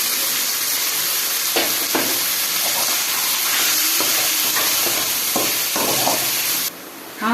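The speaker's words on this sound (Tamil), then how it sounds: "இப்போ நம்ம வெங்காயமும் தக்காளியும் அரைச்சி வச்சுருக்கோம் ஃப்ரெண்ட்ஸ், அதை போட்டு அதையும் போட்டு இதோட நல்லா வதக்கலாம்" Ground onion and tomato paste sautés for chicken gravy with a steady, close sizzle and frequent scraping stirs, the hiss continuing with no talk before it briefly drops near the end.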